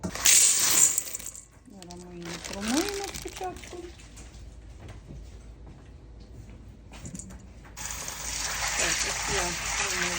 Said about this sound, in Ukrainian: Виливаємо. Виливаю фасольку.